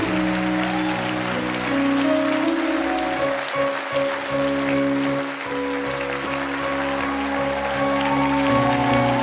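A church congregation applauds during a sermon, a steady wash of clapping that runs the whole time beneath sustained keyboard chords.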